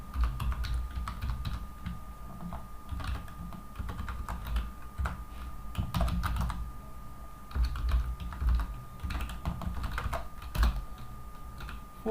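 Rapid keystrokes on a computer keyboard as a password is entered during a VMware hypervisor installation, irregular clicking bursts continuing steadily over a constant faint electronic hum, close and fairly loud, with no talking.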